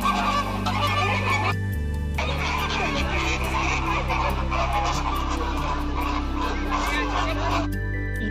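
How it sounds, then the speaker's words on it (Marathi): Flamingos at a Sea World exhibit keep up a loud, overlapping chorus of nasal honks, with a low steady drone and faint human voices mixed underneath. "किती किलबिलाट चालला एकदम"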